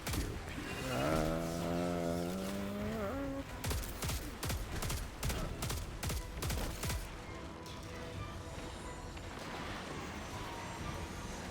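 Weapon fire in Destiny 2: a rising mechanical charge-up whine, then a rapid burst of sharp shots in quick succession, followed by quieter clicking and ambient game noise.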